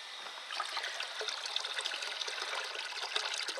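Water runs steadily through a Ford Expedition heater core during a reverse flush with a garden hose, a close, even trickling hiss with no voices.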